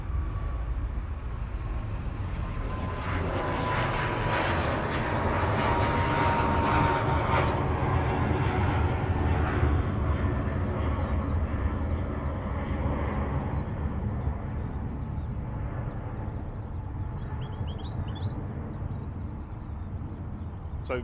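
Ryanair Boeing 737 MAX 8 jet departing Manchester Airport, a broad engine roar with a rising whine that builds, peaks midway and gradually recedes into the distance, heard without voices.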